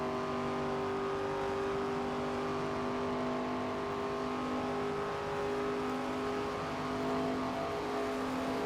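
Race car engine accelerating in the NASCAR 25 video game at Talladega, ARCA season race: a steady loud drone with layered engine tones, rising slightly in revs and continuing throughout without talk.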